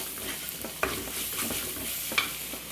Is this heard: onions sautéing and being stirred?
yes